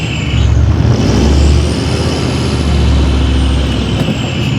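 A 4x4 engine labours in low first gear with both lockers engaged as it climbs a step on a wind farm track, a loud, steady, close rumble that swells slightly and holds for several seconds.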